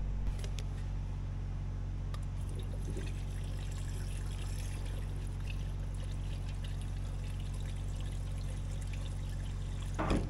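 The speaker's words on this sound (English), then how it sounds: "I'm just going to get some jugs of water and fill this thing up." Water from jugs pours steadily into the cooling system of an old Allis-Chalmers diesel military generator, a continuous close splashing flow over a low steady hum that lasts throughout, with no talking.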